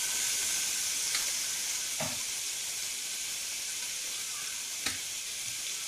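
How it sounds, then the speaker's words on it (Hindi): Beef and bitter gourd with spices frying in a pan, a steady close sizzle and hiss with a few brief clinks of a spoon stirring, no talk. "और इसको भूनेंगे।"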